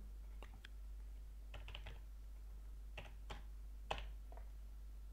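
A password is typed on a computer keyboard: soft, quiet key clicks in short irregular bursts over a low steady hum, with no voices.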